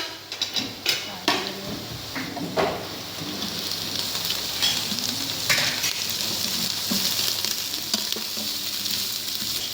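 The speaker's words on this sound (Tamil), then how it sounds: "நல்ல வேகத்துக்காக நல்லா கிளறி விடணும்." Cabbage and onions stir-fried in a pan, opening with several clanks of a utensil against the pan, then a steady loud sizzle and rustle of stirring up close.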